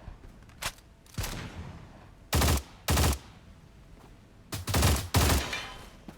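Gunfire from the video game Stalcraft: several short bursts of automatic fire, a few quick single shots and longer rattling volleys, loud and close with brief pauses between, no voices.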